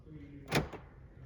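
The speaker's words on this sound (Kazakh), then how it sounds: "ашып, жауып тұр." A Toyota Hilux car door is opened and closed once, a short, close thud against low background hum.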